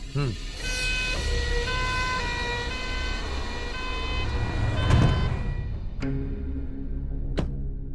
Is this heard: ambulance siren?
yes